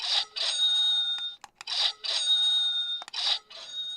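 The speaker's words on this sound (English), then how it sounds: "It's the market bell." A bright electronic stock market opening bell rings in repeated bursts, several short trilling peals separated by brief pauses, clear and fairly close.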